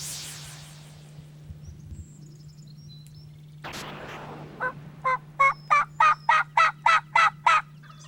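A wild turkey gobbles in a rapid series of sharp, rattling notes, clear and moderately close, after a stretch of quiet woods with a steady low hum.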